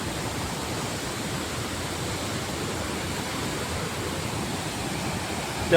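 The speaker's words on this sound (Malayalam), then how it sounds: "ഒരു ചെറിയ വെള്ളച്ചാട്ടം." A small waterfall tumbles over rocks beside a stream, making a steady, broadband rush that stays loud and unchanging throughout, with no voices.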